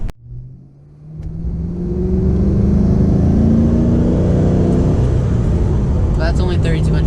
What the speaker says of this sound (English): The car sounds great. It's just quiet, but it's got a great sound.